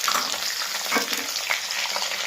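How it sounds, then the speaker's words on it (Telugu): Mustard seeds and other tempering spices with slit green chillies frying in hot oil, a steady close sizzle and crackle with small pops, no talking. "ఫస్ట్ పోపు దినుసులన్నీ ఇలా వేగాయండి, బ్రౌనిష్ కలర్ వచ్చేంత వరకు వేయించుకోవాలి"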